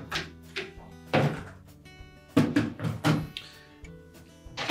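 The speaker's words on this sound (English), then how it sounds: "we're next going to open up that door" A few dull knocks and clunks of a Whirlpool dishwasher door being handled and opened, close by, with short quiet gaps between the thuds.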